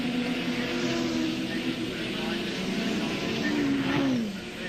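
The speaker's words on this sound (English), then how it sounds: "Dick was very close to the tail of Perkins' car." Touring race cars at Adelaide International Raceway in the 1987 Australian Touring Car Championship, engines droning loud and steady throughout with a rising then falling pitch as one runs close behind another, a voice talking over the noise.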